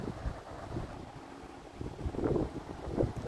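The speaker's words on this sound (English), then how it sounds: "that's the wind in the back. So, look. It's pretty windy here." Gusty wind buffets and roars across the microphone in uneven bursts, rising and falling over a few seconds.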